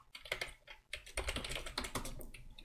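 Quiet, close typing on a computer keyboard while entering commands on a Raspberry Pi, a quick irregular run of key clicks with a brief pause before a denser burst.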